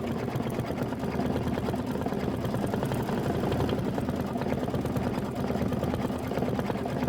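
A Kimberbell embroidery machine stitching a quilt block in thread, a rapid steady mechanical whirr and needle clatter running without pause throughout, close and even.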